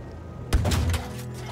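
A single heavy cannon round from an aircraft's 6-pounder in the Battlefield video game lands with a sharp, loud thud, then quickly decays into a short rumbling tail.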